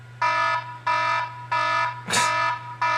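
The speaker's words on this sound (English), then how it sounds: "So when the timer ends, you can have it play a sound like alarm." An iPhone timer's alarm tone blares in loud, repeated harsh buzzing blasts roughly every two-thirds of a second, with a brief clatter partway through.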